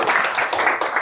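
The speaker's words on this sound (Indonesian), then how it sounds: "tepuk tangan dong untuk Dewi" A brief burst of classroom applause for a student named Dewi, several hands clapping in quick, uneven rhythm, close and moderately loud.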